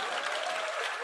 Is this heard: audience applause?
yes